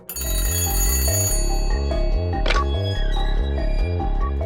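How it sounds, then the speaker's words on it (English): An old telephone rings in a dramatized 1930s Kremlin story, sounding as a loud, continuous bell ring over a steady musical background. "And then the phone call comes."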